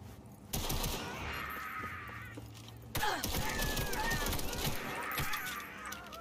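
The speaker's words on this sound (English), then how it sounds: "Who the fuck is shooting me now?" Gunfire erupts in the video game Cyberpunk 2077, a dense, sustained barrage of shots and bursts that is loud and chaotic throughout, with cries and game sounds mixed in.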